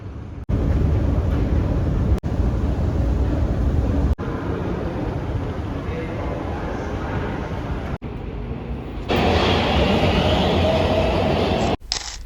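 A metro train at a station in Nuremberg, a loud, steady rumble and rush of a passing train that runs for several seconds and shifts into a brighter hiss near the end.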